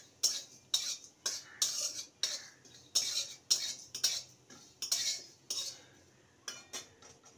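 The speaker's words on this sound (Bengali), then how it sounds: "ভালো করে নেড়ে নেব।" A utensil scrapes and taps rhythmically in a pan as spices such as cloves are stirred for ginger candy, roughly a dozen crisp close strokes in steady succession.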